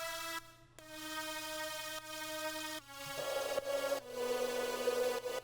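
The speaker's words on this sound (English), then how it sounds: "I layered this atmospheric sound with a lead." An atmospheric synth texture layered with a lead line in an electronic drop, starting as a soft sustained tone before a brighter lead enters with stepping notes and grows fuller and louder toward the end.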